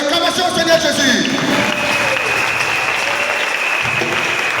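Loud applause and cheering from a congregation at a church wedding blessing, dense and sustained claps close by, with voices mixed into the crowd noise.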